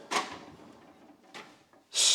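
A toolbox drawer slides open and shut with short wooden scrapes and a couple of soft knocks, close by and fairly quiet.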